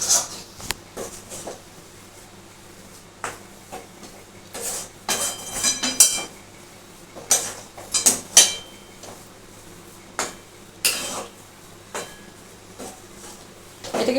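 Coconut barfi mixture with a pinch of cardamom powder being stirred in a pan, giving irregular scraping strokes and light metallic clinks at close range, with soft pauses between bursts and no talk.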